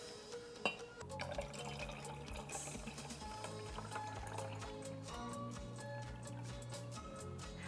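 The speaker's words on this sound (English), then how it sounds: "Now we are going to pour our water mixture into the jar." Water and white paint mixture poured into a jar, a steady liquid splash and fill running through most of the clip beneath continuous background music.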